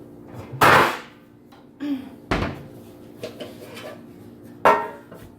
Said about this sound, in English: And I'm going to get my bread loaf pan.